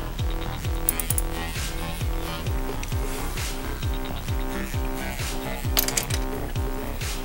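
A ratchet fitted with a 6mm Allen socket loosens the gear oil plug on a 2011 Yamaha Grizzly 700, clicking in a steady, rapid series of even clicks close up with no speech.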